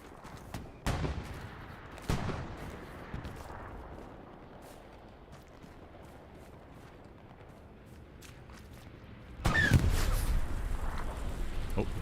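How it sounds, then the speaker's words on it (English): Explosions from a bombing run in the World War II shooter Hell Let Loose: a few sharp distant booms early, then a low rumbling lull before a heavier, sustained burst of blasts and crackling near the end. "Oh, here's the bombing run."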